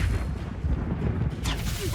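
In the video game Hogwarts Legacy, the Expelliarmus disarming spell is cast amid a dense, booming low rumble, ending in a brighter crackling burst, with a voice mixed in.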